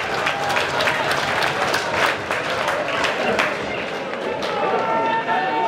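Spectators at a Scarborough Athletic versus Workington AFC football match applaud and cheer in a steady, dense wash of crowd noise, with a commentator talking over it.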